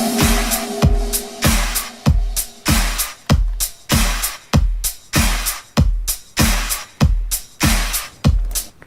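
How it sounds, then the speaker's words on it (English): A full programmed drum mix with a punchy kick and snare in a steady, even beat, plus a short percussion roll, playing loud and alone for about nine seconds. "And yeah, all together the drum sounds like this."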